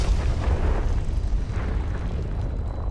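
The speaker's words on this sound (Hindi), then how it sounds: "एक जोरदार विस्फोट पूरे गोदाम को हिला गया" A loud, deep explosion in a warehouse with a sustained rumbling roar that fills the whole moment, heavy low-end boom continuing without pause.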